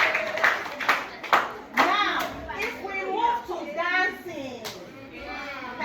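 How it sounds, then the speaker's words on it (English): An audience claps for performers at a performing arts advocacy event in Nigeria, with bursts of hand claps mixed among children's voices and chatter, fairly close and lively. "Please can we clap for them?"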